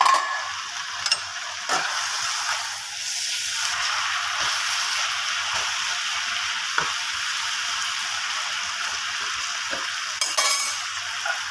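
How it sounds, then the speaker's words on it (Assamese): Jute leaves (paat saag) fry in a pan, giving a steady broadband sizzle throughout with occasional clinks and scrapes of stirring, close and fairly loud, with no talking. "চাওক মৰাপাট শাক ভাজা হৈ গ'ল"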